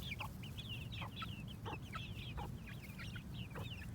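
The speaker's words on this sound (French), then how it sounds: "Là, on a un très beau coq, je pense, beaucoup plus grand que les autres" A large rooster with a speckled neck ruff, in a chicken coop, makes a quick series of repeated clucks over a low, steady background rumble. The sound is faint and there is no talking.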